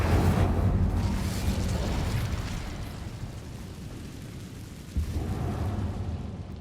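An Incendio fire spell cast in the video game Hogwarts Legacy, heard as a loud roaring burst of flame that slowly fades, then a sudden short thump flaring up again near the end.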